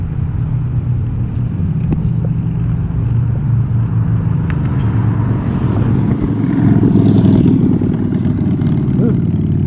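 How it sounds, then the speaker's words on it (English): A Harley-Davidson motorcycle engine runs rough near a bridge, a steady low rumble that swells slightly toward the end, heard with wind and road noise. "that's one Harley Davidson doesn't sound too good"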